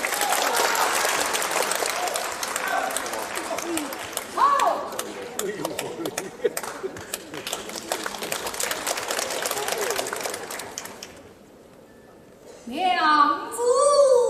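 Loud, sustained audience applause fills a Peking opera concert hall for about eleven seconds, fades briefly, then a single opera voice rings out in a drawn-out call.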